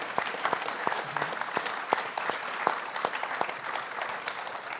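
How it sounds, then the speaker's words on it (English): Steady applause from a symposium audience at Glastonbury, moderate and even with crisp individual claps, no voices over it. "So a big round of applause"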